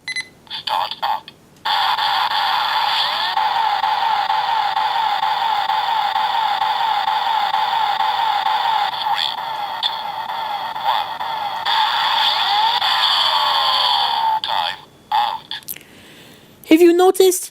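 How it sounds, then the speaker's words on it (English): Several sharp beeps open the start-up of a DX Axel Watch toy, followed by a loud, sustained electronic countdown melody with sweeping tones and chirps, closing with a few short bursts. "the beeping in the beginning on the DX version is also far louder, clearer, and more distinct"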